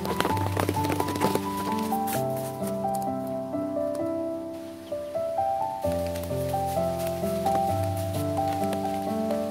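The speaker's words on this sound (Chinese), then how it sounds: "走着走着山林却下起了小雨" Light rain patters on a mountain forest, a soft steady drizzle of drops on leaves heard faintly beneath a melodic musical backing.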